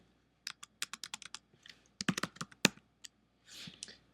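Computer keyboard typing in quick, crisp keystrokes, close and fairly quiet, in irregular bursts with short gaps.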